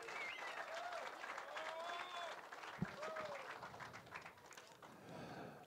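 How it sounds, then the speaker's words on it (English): Faint, steady applause from a crowd at a fishing competition weigh-in on the Vaal River, with voices and scattered cheers mixed in and a single thump partway through. "Give them a loud round of applause."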